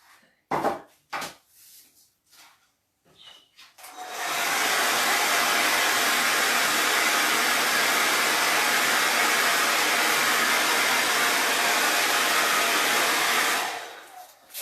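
A hair dryer blows on damp craft paint, a loud, steady, close-up rushing whoosh that holds for about ten seconds before cutting off. A few handling knocks come before it starts.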